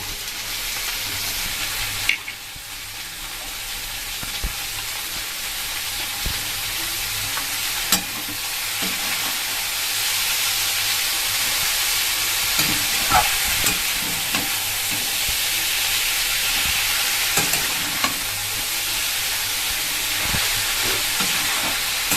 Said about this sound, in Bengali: এবার আমি দিয়ে দেবো কেটে রাখা বাঁধাকপি